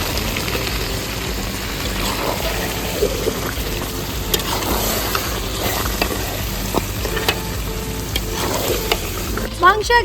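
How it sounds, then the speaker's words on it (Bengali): Marinated chicken cooks with tomato in a pan, giving a loud, steady sizzle close by, with intermittent stirring clatter throughout. "মাংস একদম দারুণভাবে কষানো চলছে।"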